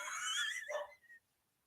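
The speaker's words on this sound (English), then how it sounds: "my dog started knocking" A dog indoors gives a short burst of barking and yelping, fairly faint, then falls silent.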